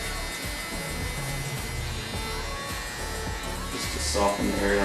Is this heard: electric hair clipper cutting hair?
yes